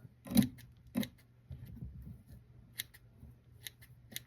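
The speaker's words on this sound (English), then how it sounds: "These scissors are pretty good. They have little serrated edges on them." Serrated scissors snip fly-tying material for a musky fly, giving a few sharp close cuts followed by lighter scattered snips and rustling, with no talk.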